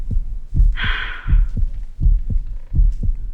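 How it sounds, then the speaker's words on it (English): Heartbeat sound effect from the video game Reverse 1999: a steady, loud, deep double thump repeating about every second, with a brief airy hiss in the first second. "we are already starting with heartbeats"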